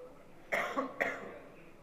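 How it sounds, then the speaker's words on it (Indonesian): Two quick, muffled coughs sound close by over a faint quiet background, about half a second apart. "Wah, mohon maaf nih, saya sedang batuk."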